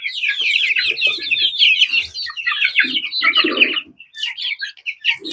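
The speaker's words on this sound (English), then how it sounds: "So here's our Kettawa rooster," A Ketawa rooster named George clucks and chirps close by in a flock of about thirty chicks, giving a busy stream of short, high calls with a few lower clucks mixed in.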